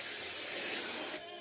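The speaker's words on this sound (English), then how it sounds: "Nice light spray over the top." Hairspray is sprayed over the top of a finished French twist updo in one close, continuous hiss lasting about a second before it cuts off.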